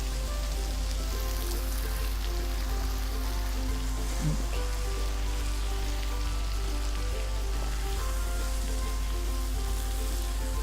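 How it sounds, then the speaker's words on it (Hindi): Chicken fries in masala and oil for a Lahori murgh chanay dish, giving a steady, dense sizzle that is continuous and close, with a low hum underneath. "ये देखें अच्छी तरह से हमारा चिकन जो है ये भुन रहा है"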